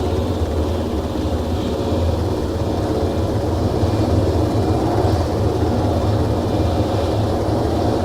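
An aircraft engine starts up and runs in the Arma 3 video game, producing a steady, loud, low droning rumble that holds unchanged throughout with no voices.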